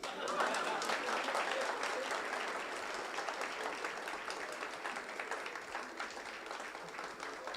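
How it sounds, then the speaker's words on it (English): An audience at a management HR conclave gives a round of applause, a steady, moderately faint patter of many hands clapping that continues throughout and thins slightly near the end. "Please give me a huge round of applause."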